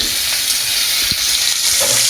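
Tomatoes frying with onions in a hot pan for a chicken curry, a steady close crackling sizzle with a few soft stirring knocks and no talk.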